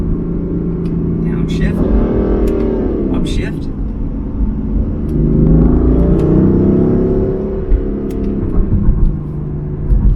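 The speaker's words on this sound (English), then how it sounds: "It's still fun to hear and to just go through the gears just so you can hear it." A BMW F82 M4 engine revs through downshifts and upshifts, rising and falling with a steady rumble from inside the car, while a person talks over it.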